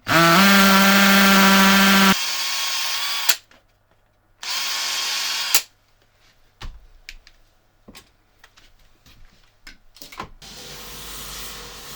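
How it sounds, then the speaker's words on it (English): A power drill whines loudly in two bursts with pauses between while drilling holes in a golf shoe being restored, followed by quieter clicks and handling noises. "we can start and drill the holes"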